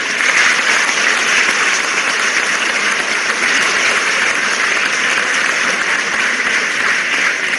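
A large audience at an official Madhya Pradesh ceremony with President Ram Nath Kovind, opening new urban health facilities, claps loudly and continuously for several seconds, with no speech over the applause.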